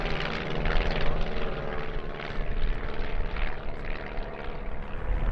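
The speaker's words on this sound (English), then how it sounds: "Here's the Cosmic Wind starting its solo display with a vertical 8" Cosmic Wind light racing aircraft performing a solo airshow display at Duxford, its piston engine and propeller producing a loud, continuous droning buzz that swells and fades slightly as it manoeuvres overhead.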